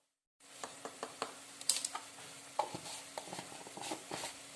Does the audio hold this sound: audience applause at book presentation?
no